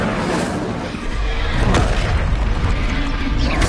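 A fire spell cast in Hogwarts Legacy lands as a loud, rumbling boom with a sharp crackling burst near the middle, sustained over dense game noise.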